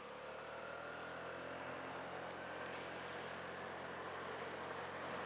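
A Honda Navi 110cc motorcycle rides through a wet night with a faint, steady engine hum under a broad wash of wind and road noise.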